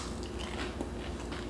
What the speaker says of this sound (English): It's crunchy, it's softer than chicken. Because it is a tofu